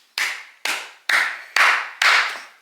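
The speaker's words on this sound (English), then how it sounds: "Absolute round of applause to both of you." Five slow, evenly spaced hand claps ring out sharply and close, each with a short fading tail, with no talking.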